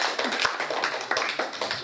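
An audience applauds at a quarterly board meeting of the Atlanta Korean Association, producing a short burst of irregular, fairly close hand claps.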